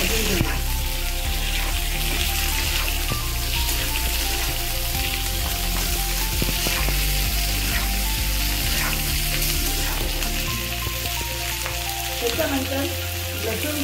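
Onion frying in a pan until light brown, a loud steady sizzle with crackling pops and occasional stirring scrapes, continuous and close with no talk.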